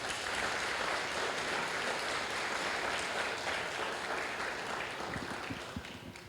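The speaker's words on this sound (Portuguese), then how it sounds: "Dá um aplauso para o Senhor" Congregation at a church service clapping for the Lord, dense continuous applause that holds steady and then thins and fades toward the end.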